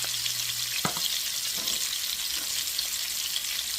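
Pork chops fry in a pan with a steady, bright sizzle that stays even throughout, with a brief clatter of utensils near the start.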